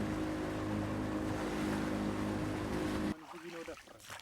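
A fishing boat's motor drones steadily with water wash on Dukan Lake in the evening, then cuts abruptly to quieter lapping water near the end.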